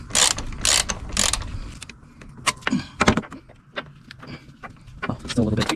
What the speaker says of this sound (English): Now I'm just gonna ratchet this side